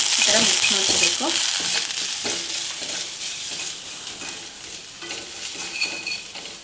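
Spices and a pinch of garam masala being stirred together in a hot pan, with a steady loud sizzle of frying throughout and the scrape of the spoon against the pan, no talking.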